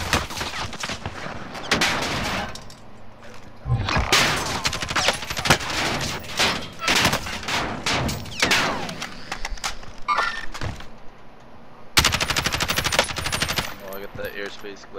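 Video game airstrike and gunfire: dense, loud bursts of rapid machine-gun fire and blasts run almost continuously, broken by short gaps, with distant booms mixed in.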